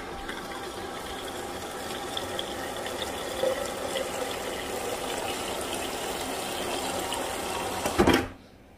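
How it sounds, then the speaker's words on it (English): Water runs steadily from a tap into a glass to mix a drink, a quiet continuous stream that ends abruptly with a brief clunk. "I gotta put water in this though."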